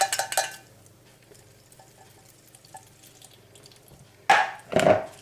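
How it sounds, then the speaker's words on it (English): Juice drained off a small tin of mandarin segments, bursts of liquid pouring and splashing into a sink or bowl at the start and again near the end, with quieter trickles between. "So you need to drain off the juice."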